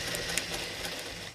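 Sewing machine stitching over scrap fabric bits, a close, steady mechanical whir with rapid needle clatter running continuously, with no talking.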